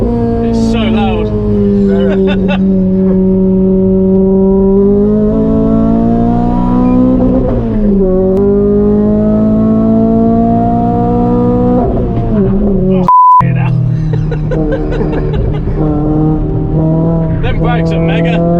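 A Renault Clio 200 Mk3 engine screams on a race track, loud and close, a strong harmonic howl that climbs and holds through the gears with a brief dropout and shift midway before pulling hard again.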